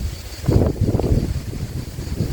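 Gusty wind buffets the microphone in low rumbling bursts, loud and close, with no voices.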